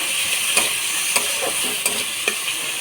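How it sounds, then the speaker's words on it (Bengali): Spices sizzle steadily in a pan alongside dried chepa shutki fish, a constant close frying hiss broken by a few soft stirring scrapes, with no voices. "এখন মশলাটা বাজবো এর সাথে"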